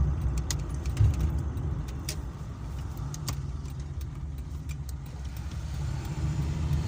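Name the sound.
1982 Toyota Corolla KE70 car driving in traffic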